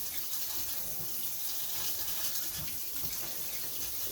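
A kitchen tap runs steadily as potatoes for canning are rinsed beneath it, a continuous hissing splash of moderate, even loudness with no voices.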